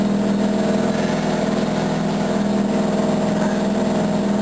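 A Mazda 12A rotary engine idles steadily just after a cold start, a continuous even drone at constant volume with no voices.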